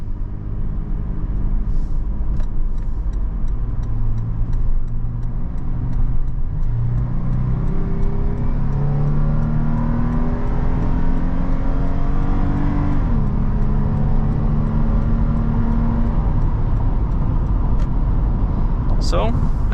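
A 2022 Toyota 4Runner's naturally aspirated 4.0 V6, in sport mode on the highway, pulls hard through the gears with a steady rising engine rumble heard from inside the cabin, a shift dip partway through, and a voice talking over it.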